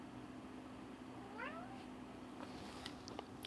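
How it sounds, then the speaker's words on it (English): A cat gives one short rising meow with a second brief call right after, fairly close but soft against a steady room hum and background noise. "And that was Suki the cat."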